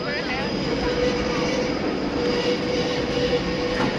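A tram rumbles past on a street in Ghent, Belgium, with a steady low roar and faint squealing wheels against the background noise.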